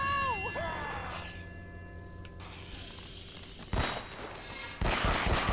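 Gunfire in the video game Uncharted: Drake's Fortune Remastered bursts out in two loud volleys over a droning game soundtrack with sweeping tones.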